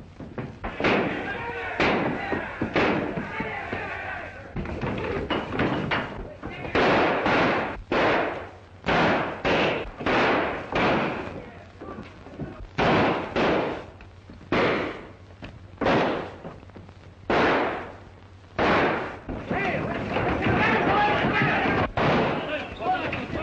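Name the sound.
gunshots, man shooting up the town in a western film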